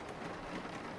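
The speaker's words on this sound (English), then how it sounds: "It's still raining." Steady rain falls outside a room at night, an even, soft hiss of drops with a low rumble underneath, moderately quiet and constant throughout with no voices.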